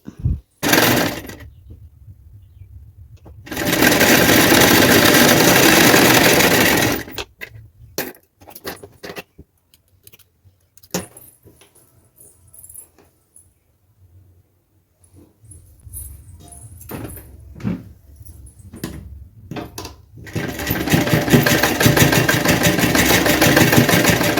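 A sewing machine stitches a plain blouse in two steady, whirring runs. Between them come quieter stretches of clicks and fabric handling.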